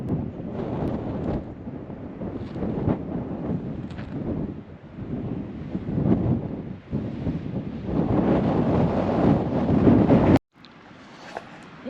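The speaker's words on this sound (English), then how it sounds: "A little too windy though." Strong wind gusting across the top of a cliff above the Colorado River, a continuous loud rushing roar with bursts and buffeting against the microphone, dropping abruptly near the end.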